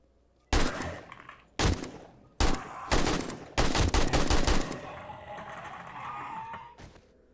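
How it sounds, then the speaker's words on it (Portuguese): Gunfire in the zombie survival game 7 Days to Die: a series of loud, sharp shots, several spaced apart and then a rapid cluster, followed by a fading rumble and one last shot. "Vamos ver um tiro."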